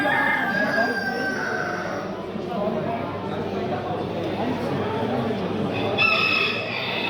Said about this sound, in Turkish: Bu da Vernot 94 puanlı olan şampiyon horozu.